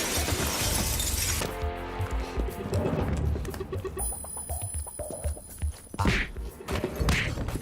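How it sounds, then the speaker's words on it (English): Glass shatters as a man crashes through a pane in a film action scene, a sharp breaking burst followed by scattered tinkling debris and other scene sounds, with no voices. "that's a very cool scene of Gary Busey falling through glass"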